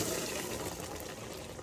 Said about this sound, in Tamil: இப்போ நம்ம வேக வச்சிருக்கிற பருப்பை இது கூட ஊற்றுறோம்